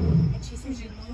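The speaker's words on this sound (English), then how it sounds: "That's him roaring." A lion roars at Chessington World of Adventures, a short deep rumble heard at a distance with people talking nearby.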